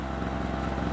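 A small Harbor Freight gasoline generator engine runs steadily at close range, a continuous buzzy drone with a slight rhythmic flutter and no talk over it.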